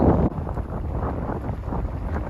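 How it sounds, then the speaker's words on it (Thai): Strong wind blowing on a dike by the cold sea, a loud continuous roar buffeting the microphone with gusty rumble throughout. "ลมแรงแรงในทะเล"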